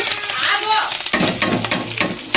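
Tempering spices with onions and green chillies in hot oil for leftover-idli upma, a loud close sizzle that flares up sharply midway, with scraping stirs and a voice talking faintly underneath.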